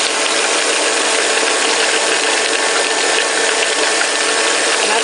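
A Bosch blender pulses frozen, scored avocado pieces on high, a loud, steady whirring grind that fills the whole stretch without pause and sits close by.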